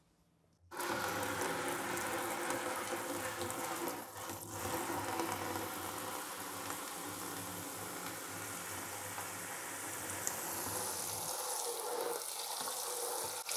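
Water is poured into a basin to soak fabrics for guava-leaf botanical eco-printing. After a brief quiet start it becomes a steady, close, continuous rushing pour with no talking.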